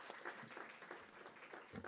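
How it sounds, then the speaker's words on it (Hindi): At a felicitation ceremony during a Modi Mahotsav celebration of the Indian prime minister's 75th birthday, a hall audience claps to welcome Professor Firoz Ahmed Bakht, a former vice chancellor; the applause is quiet and somewhat distant, brief and steady. "जोरदार तालियां हो जाएं"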